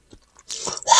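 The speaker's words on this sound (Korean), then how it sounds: "숙성시킨 참치를 먹어보도록 하겠습니다." Aged tuna sashimi being eaten, with soft wet chewing and squishy mouth sounds building after a quiet start, close and fairly loud, no talking.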